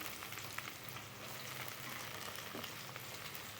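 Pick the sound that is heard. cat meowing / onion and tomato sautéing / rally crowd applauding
onion and tomato sautéing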